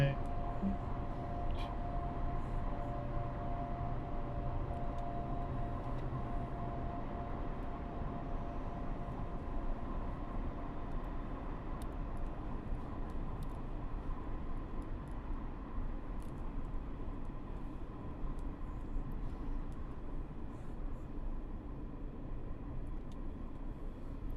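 Metro North commuter train in a snowy train simulator game, a steady low rumble of rolling wheels and motor hum running continuously at even loudness, with faint tonal whines above it.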